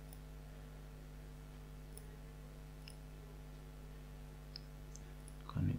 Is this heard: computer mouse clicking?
yes